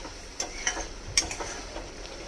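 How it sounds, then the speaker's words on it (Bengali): Spice paste with tomato frying in a pan while being stirred, heard as a few light, irregular ticks and taps over a faint sizzle, close up. "এবারে মশলাটাকে খুব ভালো করে কষিয়ে নেব।"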